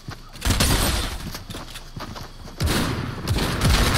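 Rapid bursts of auto shotgun fire from a video game firefight, loud and close, with repeated booming volleys that pause briefly and then resume.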